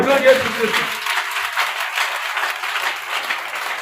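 A church congregation at a Friday evangelical sermon applauds for Jesus: after a short spoken phrase, broad, sustained clapping carries on evenly from the crowd.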